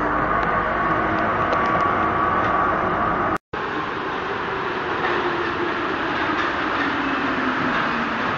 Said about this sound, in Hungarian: Most metrózunk.